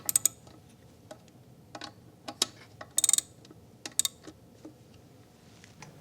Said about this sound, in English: We can then snug these 10mm bolts.